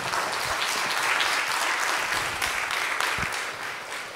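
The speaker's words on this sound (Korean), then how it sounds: "박수로 교수님 맞이합니다." An audience at a church theology forum lecture applauds to welcome a professor to the podium, giving steady, dense clapping that lasts several seconds before tapering slightly.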